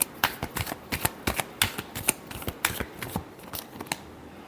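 Tarot cards riffled in a shuffle by hand, a quick run of crisp, close flicks and slaps with uneven rhythm, no talk over it.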